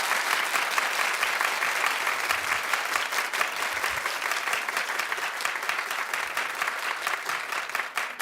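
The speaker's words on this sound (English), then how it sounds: "don't clap for so long." Sustained studio audience applause on a talk show, even and unbroken clapping with a crowd wash running throughout, no one speaking over it.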